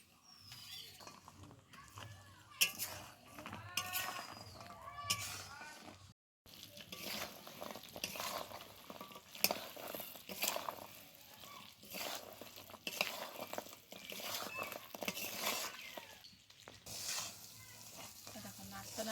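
Fried goja pastries are stirred through sugar syrup in a pan over heat, giving a close, irregular mix of wet bubbling, sizzling and repeated scraping and clattering stir strokes, with one short silent break partway through.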